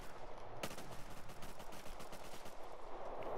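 Double-barrel shotgun fire in Rust console gameplay, a sharp close blast followed by rapid rattling gunfire, moderately loud and continuous.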